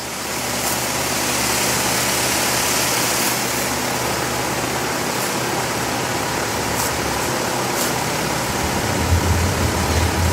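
A commercial hot water pressure washer runs and sprays continuously, a loud close broadband hiss with steady motor rumble underneath and a few faint clicks.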